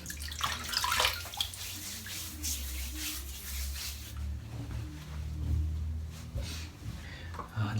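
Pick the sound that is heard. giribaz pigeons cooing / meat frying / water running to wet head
water running to wet head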